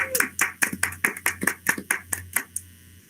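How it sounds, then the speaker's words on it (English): A single person claps at a school district board meeting, about a dozen sharp, close claps in an uneven rhythm, then stops. "Let's hear a big round of applause for Lynn Kai,"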